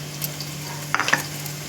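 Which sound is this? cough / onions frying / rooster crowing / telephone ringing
onions frying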